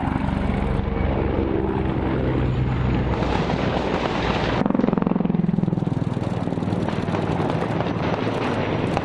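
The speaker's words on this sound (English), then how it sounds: "That's the helicopter, I think." A helicopter drones loudly during an attack on Donetsk Airport, with a pulsing rotor throb, its pitch shifting midway as it passes nearby.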